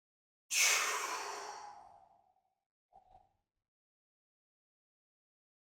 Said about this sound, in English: Breathing out through our mouth.